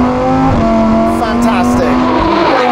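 Lamborghini Huracan STO with its 5.2 litre naturally aspirated V10 and Novitec exhaust, producing a loud, continuous high-pitched engine note that shifts pitch across gear changes, with a voice speaking over it.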